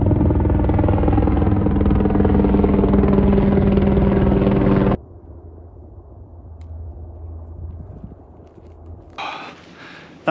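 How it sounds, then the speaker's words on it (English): A helicopter circles over An Teallach in the Scottish Highlands, a loud rhythmic rotor chop close up for several seconds, then a quieter distant stretch with a brief surge near the end. "That helicopter is buzzing around Teallach between the two Munros."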